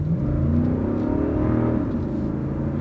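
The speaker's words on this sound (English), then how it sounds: "Got that V8 sound" A Lexus SUV's V8 engine rumbles steadily with a deep, throaty tone as it accelerates on a small drag strip, loud and close, with no voices.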